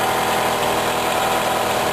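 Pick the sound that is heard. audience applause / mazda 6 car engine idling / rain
mazda 6 car engine idling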